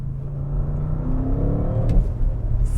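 An Audi RS6 Avant Performance wagon from 2024 accelerates hard, its engine note rising as the revs climb, loud and close with a steady rumbling burble throughout.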